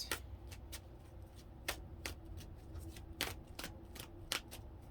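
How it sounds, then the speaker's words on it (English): Tarot cards being shuffled by hand close by, a series of quick crisp riffling snaps at an uneven rhythm over a quiet, steady room hum. "They want me to do a big shuffle 3 times."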